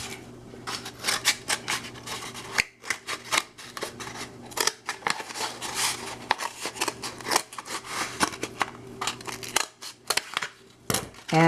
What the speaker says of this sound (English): a paper towel roll is just about the right size to fit in the box. Just fold it, cut along the fold